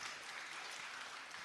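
Audience applause at a live panel discussion at a political convention, a steady broadband wash of clapping filling the whole moment without a break, moderately distant and even in level, with no talk over it.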